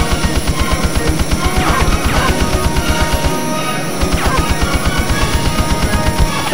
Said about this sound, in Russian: Пушка.